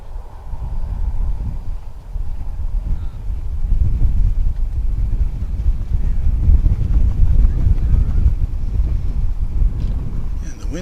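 Gusty wind outdoors beside a runway at DFW Airport, a loud rumbling buffet across the microphone that swells and eases in waves, with a distant engine-like drone underneath.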